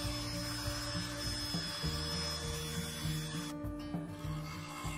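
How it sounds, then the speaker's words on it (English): A power sander with 100-grit abrasive works over a woodturned bowl, giving a continuous buzzing hum with shifting tonal steps as pressure changes, close and steady, briefly dipping near the end. "I power sanded with 100 grit, being careful not to dwell on one spot for too long"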